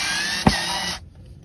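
A power tool whirs steadily for about a second with a sharp click partway through, then cuts off abruptly into near silence.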